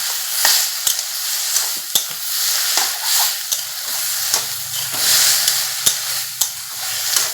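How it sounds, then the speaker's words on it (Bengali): Spice paste sizzling and frying in a pan with a splash of water, stirred repeatedly so a ladle scrapes and taps against the pan over a steady close hiss, with no talking. "এখন আমি পেস্ট করে রাখা মশলাগুলো দিয়ে দিই জারটা ধুয়ে একটু জল দিয়ে দিলাম আবারও আমি একটু নাড়াচাড়া করে নিচ্ছি"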